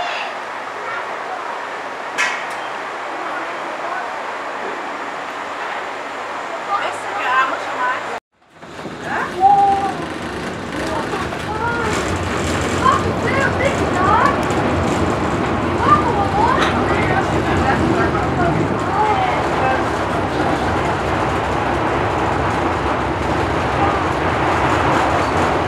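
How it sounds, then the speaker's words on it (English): The Wuppertal Schwebebahn suspension railway pulls in, its rumbling rolling noise swelling and holding steady after a quieter stretch, while people talk over it. "Train is just arriving."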